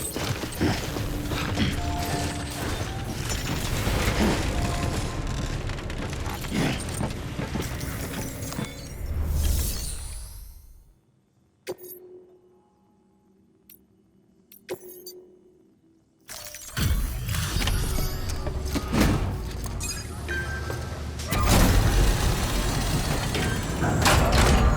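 Decontamination machinery in the Death Stranding video game churns with dense, loud mechanical hissing and clattering, drops into a near-silent pause broken by a few faint hums and clicks, then surges back at full force.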